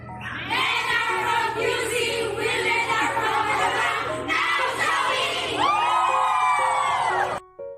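A loud crowd shouting and cheering together, sustained voices rising and falling, with whoops and screams over a steady low hum.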